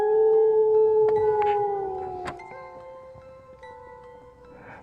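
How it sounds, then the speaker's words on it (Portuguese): A lone dog howls in a long, sustained wail that slowly falls in pitch, loud and close, set in a dark horror tale about a huge dog howling at night with other dogs. "E um uivo se destacava de todos."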